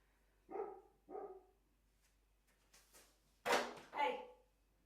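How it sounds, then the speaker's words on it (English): A dog barks outdoors on a hot day, two sharp barks followed by a pause and then two louder barks, fairly close, with a few faint scuffs in between. "The dog has started to bark at something."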